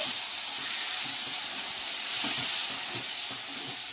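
Masala spices sizzling in a pan while stuffed brinjal curry with cashews cooks, a steady close hiss with faint crackles throughout, no talk.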